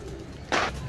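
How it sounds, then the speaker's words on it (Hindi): A pigeon gives one short, soft coo, quite close, over a faint background hum. "कबूतर आ रहा"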